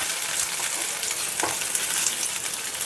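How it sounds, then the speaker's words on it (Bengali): Garlic and chillies with black cumin sizzle in hot oil in a pan while cooking stem greens, a steady, close, dense frying hiss with no voices. "রসুনটাও কিন্তু ভালো করে ভেজে নিচ্ছি"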